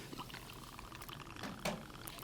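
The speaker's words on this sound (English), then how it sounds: "That is an 8 count from a pour spout." Aperol poured from a bottle fitted with a pour spout, a soft continuous liquid trickle at bar-side, faint and steady over a couple of seconds with a slight swell near the end.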